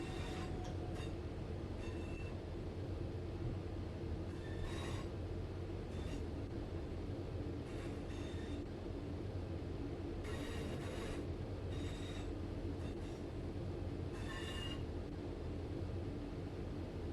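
Train rumbling along in Train Sim World 6 as brakes are applied, a steady low rolling drone with intermittent high metallic squeals from the wheels, quiet and continuous with no talking.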